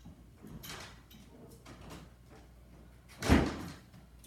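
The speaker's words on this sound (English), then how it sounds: "Shut that door." A door slams shut once during a stage play, a single loud thump and rattle near the end after a stretch of quiet room noise.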